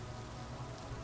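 Steady rain from the Road 96 video game patters on a surface in a continuous, even wash of noise, moderately quiet, with a low rumbling hum underneath and no voices.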